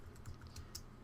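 Several soft keystrokes on a computer keyboard as a command is typed into a terminal, quiet, close and irregular, with no voices.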